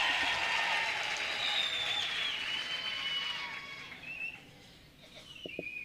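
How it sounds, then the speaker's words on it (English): Graduation ceremony crowd applauding a college choir in a large hall, a broad steady wash of clapping that fades toward the end, with a few scattered claps and faint cheers. "let's give a big round of applause for the college choir"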